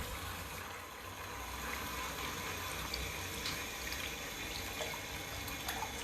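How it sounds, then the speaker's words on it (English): Water runs steadily through a urinal just after its supply is turned on, a continuous broadband hiss and gush at moderate level with no voices. "we're going to go ahead and turn on the water"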